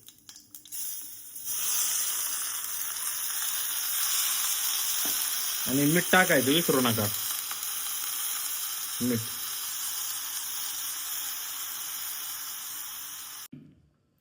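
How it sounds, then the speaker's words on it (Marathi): Rice and cumin tempering in hot oil give a loud, steady sizzle that runs almost the whole time, with a brief clatter of stirring and a short spoken remark partway through. "फोडणी द्यायची, आणि हा तांदूळ त्याच्यात टाकून द्यायचा"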